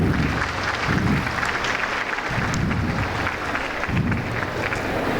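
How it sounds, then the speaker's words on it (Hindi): Loud, sustained applause from an audience of teachers at an afternoon school orientation session, dense clapping filling the room throughout, with no talk over it. "इन सब टीचर्स के लिए एक जोरदार तालियां।"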